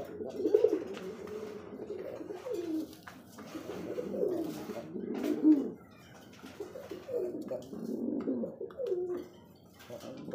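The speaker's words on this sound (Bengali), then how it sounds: "সেরা এক জোড়া কবুতর রেড কালারের মধ্যে রাসগোল্লা" A pair of red Rasgolla pigeons coo in repeated soft, throaty rolling phrases, close by and fairly loud, with brief pauses between calls and no talking.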